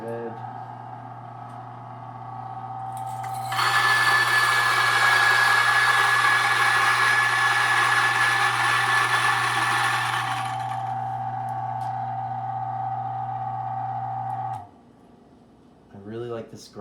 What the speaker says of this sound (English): I really like this grinder, but it's really messy.